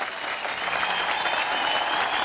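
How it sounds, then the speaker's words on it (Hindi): An audience at a kite-flying competition prize announcement claps loudly and continuously, a dense wash of applause with no pauses. "अरे भाई जोरदार तालियां।"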